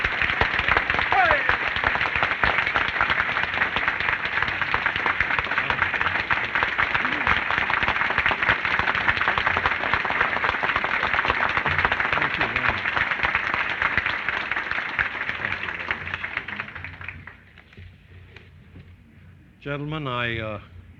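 Sustained, loud applause from a luncheon audience, dense clapping that fills most of the stretch before fading out, followed by a voice speaking near the end.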